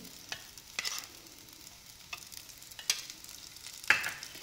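Vermicelli roasting and being stirred in ghee in a pan for sheer khurma, with sporadic scraping strokes and soft sizzling at a quiet, close level.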